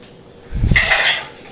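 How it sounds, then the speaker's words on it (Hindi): Dishes and utensils being put away in a home kitchen, a short burst of clinking and clattering close by that rises quickly and then fades within a second or so, without voices. "बर्तन लगाने लगी हैं।"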